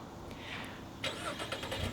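A 2015 Jeep Renegade with a 2.4 liter, 180 horsepower four-cylinder MultiAir Tiger Shark engine cranks after a soft beep and catches, settling into a steady idle that stays near and moderately loud.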